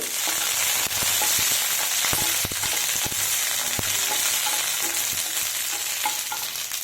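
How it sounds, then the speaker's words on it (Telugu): Green chillies fry in hot oil with a loud, dense sizzle, sharp popping crackles scattered throughout as they blister, and occasional spatula scrapes, close and continuous. "ఈ పచ్చిమిర్చి ఇలాగ 10 పచ్చిమిర్చి తీసుకోవాలండి. ఇవి వేసేసుకోవాలి. ఇవి బాగా వేపుకోవాలి."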